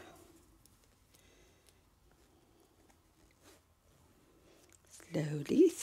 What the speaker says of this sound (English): we need to zip it up